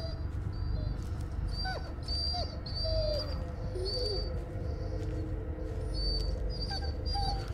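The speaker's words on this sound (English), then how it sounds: "I thought his whining was getting slower" A dog whines and whimpers in short, repeated high cries over a rumbling ambient background in the Blair Witch video game, with bird-like chirps scattered throughout.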